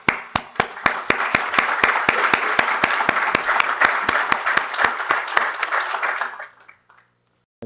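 An audience at the Steptalks'19 opening applauds the organizing team: dense, loud clapping that holds steady for about six seconds, with sharp regular ticks through it, then fades out to near silence.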